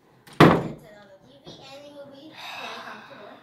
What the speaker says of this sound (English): Close the door for a while.